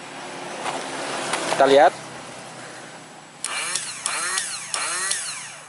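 A car starter motor (dinamo starter) is bench-tested with its body held against the engine block for ground, and it spins up in several short, loud whirring bursts with a brief speaking voice before them.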